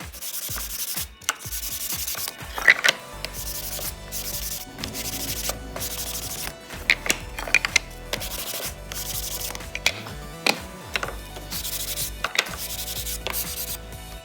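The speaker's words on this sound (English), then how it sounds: "Now sanding with 180 grit." Steady rhythmic rasping of 180-grit sandpaper rubbed back and forth on wood, close and continuous with brief pauses between passes.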